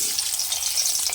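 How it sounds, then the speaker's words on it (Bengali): Spiced eggs frying in hot oil for egg biryani give a brief burst of bright, dense, steady sizzling with no voices. "তো এবার আমি ডিমগুলো ভেজে নেব। তেলটা আমার গরম হয়ে আছে।"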